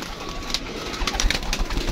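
A pigeon coos softly a couple of times amid a noisy outdoor background, the low throaty calls close by and brief.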